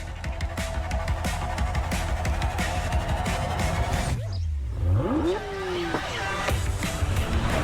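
A 1,200-horsepower McLaren W1 supercar at full throttle on a race track, its engine roaring loudly and steadily, with a tire squeal and a brief dip as it shifts through a high-speed chicane.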